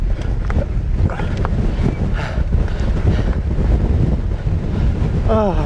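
Strong wind buffets the microphone during a hilly bike ride near Starbotton and Kettlewell, making a loud, continuous roar with gusty surges and a brief rising whistle or voice at the end.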